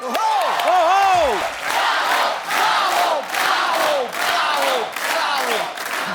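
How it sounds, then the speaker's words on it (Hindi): Studio audience of a television comedy show clapping and cheering in rhythmic rolling waves, loud and close, with whoops and shouts rising over the applause. "जोरदार तालियां हो जाए जरा"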